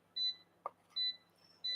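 Air fryer beeping in a home kitchen during a live cooking session: three steady electronic beeps, evenly spaced, clear and fairly close, with a brief knock between the first two and quiet room tone behind.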